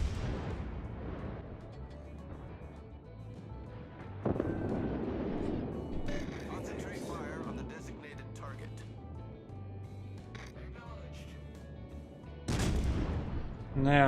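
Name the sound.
warship gunfire in video game World of Warships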